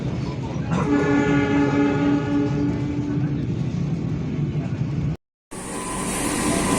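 Kutojaya Selatan train passing a crossing heard from aboard another train, loud continuous rumble and clatter with a sustained horn blast early on, then a brief cut before the roar resumes.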